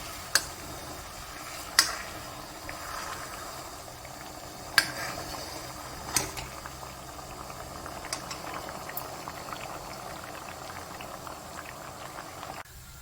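Herbal hair oil simmering on low heat in a pan on the stove, with a soft steady bubbling and crackle and a few sharp ticks as it is stirred.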